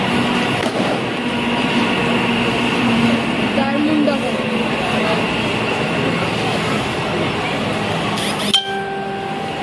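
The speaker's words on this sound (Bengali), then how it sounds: "ট্রেন প্ল্যাটফর্মে ঢুকে গেছে, এই যে এই ট্রেনেই ওরা এসছে।" A train pulls into a railway platform during Diwali, a steady rumble and rattle with clinking metallic noise, fairly loud and continuous, followed near the end by a sharp burst.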